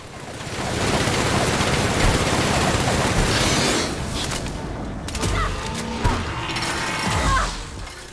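Machine gun reloading in the video game The Outer Worlds: a steady, loud mechanical rattle of gear and ratchet clicks runs for several seconds, then breaks into sharper separate metallic clacks near the end.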